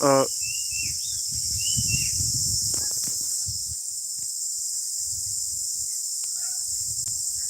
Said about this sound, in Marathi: हे बघा पक्ष्यांचे खूप सुंदर आवाज येत आहेत